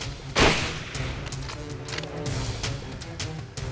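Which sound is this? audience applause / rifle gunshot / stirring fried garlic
rifle gunshot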